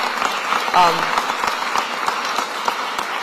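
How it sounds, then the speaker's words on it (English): Applause for the city budget team during a mayor's speech on Philadelphia's budget passing, a steady wash of clapping from an audience with a brief voice rising near the start. "Give both of them a round of applause"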